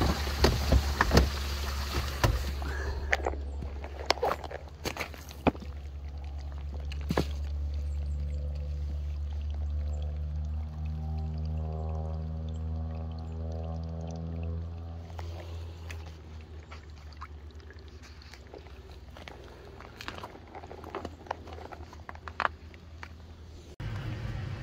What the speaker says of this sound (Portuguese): Jogou nas válvulas, ela libera. A água indo embora ali.